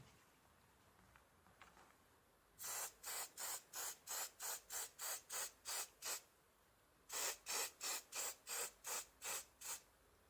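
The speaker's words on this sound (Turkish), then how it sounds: "Saç spreyi sıkabiliriz buraya." Repeated short hisses of an aerosol hair spray in two rhythmic runs of quick pumps, close and crisp against a quiet background.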